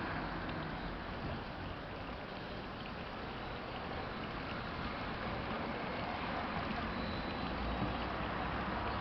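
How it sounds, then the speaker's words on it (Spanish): Strong wind buffets the microphone outdoors during a rola bola balancing stunt in Linares, a steady loud roar across the whole clip with no clear speech. "hay harto viento"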